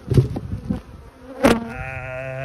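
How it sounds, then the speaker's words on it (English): Bees buzz close by in a hive box in a dense, droning hum, with a few louder rustling bursts and a sustained whining tone near the end. "there's a box of bees, and that's not going to be easy to dig into."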